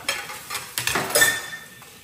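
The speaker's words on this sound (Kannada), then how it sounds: "ಪಾತ್ರೆ ತೊಳೆಯುವ ಸೌಂಡ್ ಆಗೇ ಆಗುತ್ತಪ್ಪ ನಾಯ್ಸು" Dishes, pots and pans being washed in a home kitchen: a handful of close metallic clanks and clinks with a splash of water, irregular and sharp, without talk.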